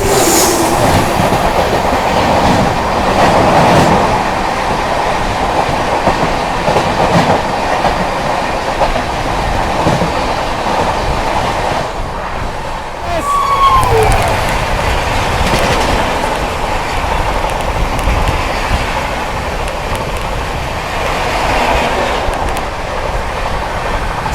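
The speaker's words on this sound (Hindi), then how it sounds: "यहाँ पर अपने से क्रॉस हो रही है 12826 आनंद विहार रांची झारखंड संपर्क क्रांति" The 12826 Anand Vihar–Ranchi Jharkhand Sampark Kranti express rolls past on the adjacent track, a loud continuous rumble of wagons with clickety-clack and a brief wheel squeal, heard from a passing train.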